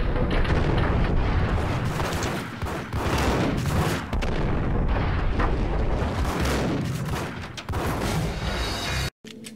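Heavy, continuous gunfire in the video game Max Payne, dense overlapping shots and booming blasts filling the clip loudly, ending in a brief sudden cutoff.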